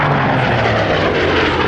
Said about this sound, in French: elle se retrouve sur cet avion qui s'appelle le DH-100 Vampire